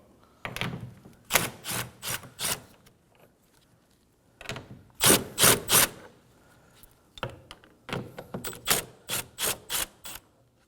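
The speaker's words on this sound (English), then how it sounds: "Using a 10mm socket, go ahead and take these nuts off" Ratchet with a 10mm socket loosening the mirror mounting nuts on a 2011-2016 Kia Optima door, heard as close, repeated bursts of clicking strokes in several quick groups separated by short pauses.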